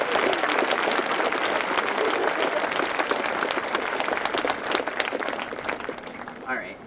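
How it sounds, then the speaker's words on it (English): A high school graduation audience claps and cheers in sustained, dense applause that holds steady for several seconds, then tapers as a voice begins over it near the end. "Clap like Chris Hemsworth just walked down the aisle"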